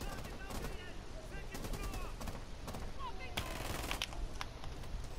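Rainbow Six Siege gunfire, rapid cracking shots in quick irregular bursts over a constant dense game ambience, with some chatter mixed in.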